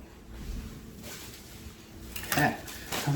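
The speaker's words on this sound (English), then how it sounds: "Sounds like we got some glass stuff, do we?" Glass items clinking and knocking together inside a bag, a few soft clatters that grow into a brief louder rattle near the end, heard fairly close in a quiet room.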